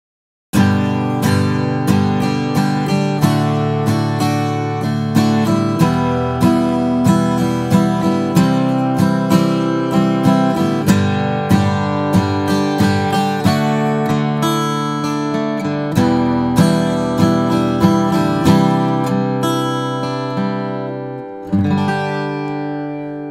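Acoustic guitar played in a beginner rhythm pattern that mixes strummed chords with picked single notes, steady and close for over twenty seconds, each chord ringing into the next before a final let-ring fade.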